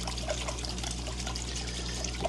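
Water trickles and drips steadily off aquarium plants as they are slowly lifted out of a 180-gallon tank, a continuous close splashing trickle with no speech.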